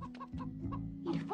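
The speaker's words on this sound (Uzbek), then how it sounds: "tovuq birdan qaqag'lay boshlabdi" A cartoon hen breaks into clucking: a short run of quick, nasal clucks, close and clear, with no talk over them.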